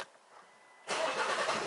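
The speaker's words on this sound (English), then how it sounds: "And then you press the brake and start up the car." An Alfa Romeo car engine starts abruptly after a quiet pause, then settles into a loud, steady running sound that continues to the end of the short clip.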